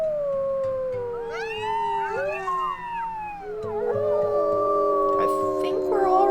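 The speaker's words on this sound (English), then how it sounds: "Let's maybe do a little howl." Several wolves in the video game WolfQuest howl together in long, overlapping rising and falling tones, loud and sustained as a chorus, with a voice talking underneath.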